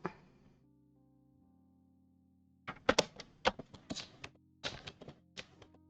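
A guillotine paper cutter's folding blade creases paper: one dull thunk, a pause, then a quick cluster of close, crisp clacks and taps.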